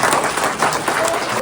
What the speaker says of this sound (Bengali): একটা জোরে হাততালি তৃষার জন্য।